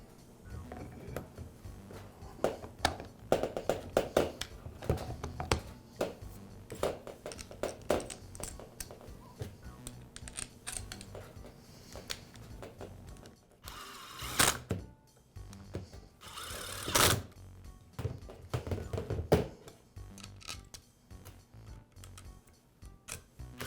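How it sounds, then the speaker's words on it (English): Small clicks, taps and thunks come at irregular intervals as the armature and gearbox are fitted back into a Makita drill, with a few louder rattling bursts in between. "Next, I'll reinstall the armature and gearbox Back to the rest of the tool."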